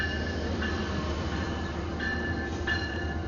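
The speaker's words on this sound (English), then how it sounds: "Our train should be pulling up very soon" Steady rumble of a train in a station, with faint metallic squeals rising briefly as it rolls in.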